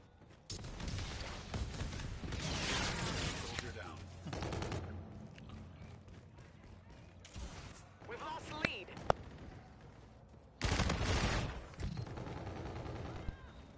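Gunfire in Call of Duty: Infinite Warfare, loud bursts of automatic shots in several clusters, with a few sharper single cracks, under and between a person talking.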